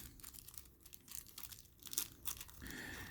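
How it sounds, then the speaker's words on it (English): Taped plastic packaging tray being ripped open during a figure unboxing, several quiet crinkling tears and crunches of plastic in close, uneven bursts. "we shall rip the plastic open"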